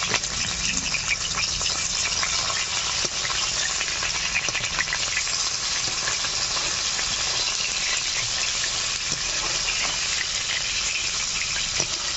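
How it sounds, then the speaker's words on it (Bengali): Rui fish pieces frying in mustard oil in a wok make a dense, even crackling sizzle that holds steady and loud for the whole stretch. "কড়াইতে সরিষার তেল দিয়ে দিচ্ছি, মাছগুলো ভেজে নিচ্ছি।"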